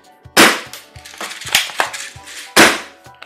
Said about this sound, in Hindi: अभी हम फटाफट फायर करके देखते हैं, पूरे सेंटर में लेफ्ट साइड मार रहा हूँ मैं इस वाले गन से